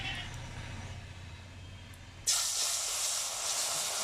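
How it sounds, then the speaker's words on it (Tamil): Marinated river fish hits hot cooking oil in a home kitchen: a quiet background hum, then an abrupt loud, bright sizzle that keeps hissing steadily, close by. "அடுத்து வந்து மீன் வறுத்துக்கலாம்"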